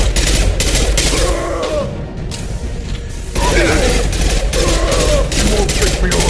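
Dense Mass Effect 2 video game gunfire: continuous rapid rattling shots and mechanical clatter, loud and close, with a brief lull partway through before the firing resumes.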